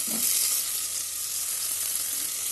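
Mixed vegetables with onion, tomato, green chilli, carrot, beans and radish frying in a pan for a homemade curry, giving a steady, close hiss of sizzling oil throughout with a faint stir near the start.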